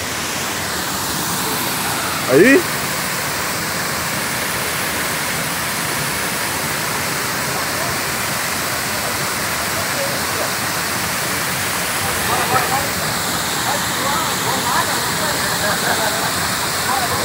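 The Cachoeira do Bragantino waterfall in Maranguape, Ceará, gives a continuous, close, full rushing roar that holds steady throughout, with a few brief spoken exclamations over it.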